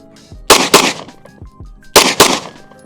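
Shots from a polymer frame pistol ring out in two quick pairs of sharp, loud cracks, each followed by a short decay. They are close, with no talk.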